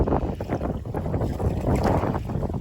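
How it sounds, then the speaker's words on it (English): Strong gusting wind buffets the microphone beside an inflatable tandem kayak being docked, a loud, continuous rumbling roar with irregular surges and no voices. "you brought the wind with you"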